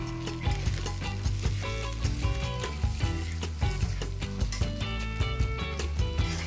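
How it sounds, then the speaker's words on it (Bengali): Onions sizzle steadily in fish oil with ginger-garlic paste in a pan, a continuous frying hiss with light stirring, partly masked by tonal background music. "আদা রসুন বাটা দিয়ে ভালোভাবে মাছের তেলগুলোর সাথে পেঁয়াজগুলো ভেজে নিয়েছি।"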